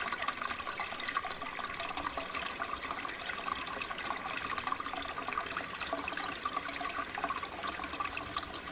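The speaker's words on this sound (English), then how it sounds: "That one flushes for a long fucking time." A toilet flushes on and on with a steady rush of running water that keeps up at an even level for the whole stretch, close by and with no talking.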